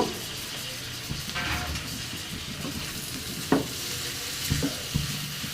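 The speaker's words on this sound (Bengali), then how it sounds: "দুই চার মিনিট আমি ভেজে নেব" Vegetables fry and sizzle steadily in a pan for a Chinese-style vegetable dish, with a few sharp utensil scrapes and clinks against the pan over the continuous hiss.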